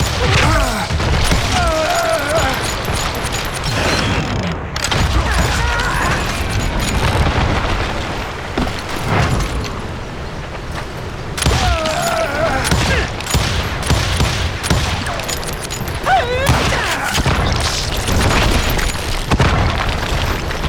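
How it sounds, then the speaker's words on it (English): Dense, loud Wild West gunfire and booming explosions from the Call of Juarez: Gunslinger video game, continuous volleys and bursts layered over a busy battle soundscape, with no talk. "now that the shooting has started, there was no backing down"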